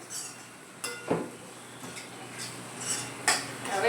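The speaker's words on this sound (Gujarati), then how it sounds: "હવે આપણે બધા મસાલા હલાવી દઈશું" A spoon stirs spices in a metal pan of spiny gourd curry, giving scraping strokes and a few bright clinks against the pan in an uneven rhythm, close and moderately loud with no talk.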